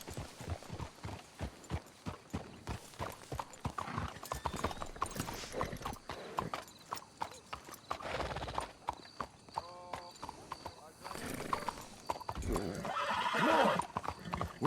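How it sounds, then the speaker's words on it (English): Horses in Red Dead Redemption 2 clip-clopping with steady hoofbeats, then a clear neigh partway through, set against in-game ambience and background sound. "Let's hitch the horses up ahead."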